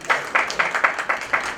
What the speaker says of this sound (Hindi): ये इनके लिए जोरदार तालियां बजा दीजिए